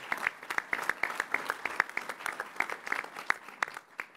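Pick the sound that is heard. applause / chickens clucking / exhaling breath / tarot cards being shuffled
applause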